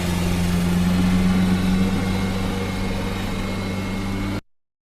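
Vessel engine noise recorded underwater in the ocean: a steady low hum with strong tonal bands throughout, loud and continuous with a broadband wash above, ending abruptly.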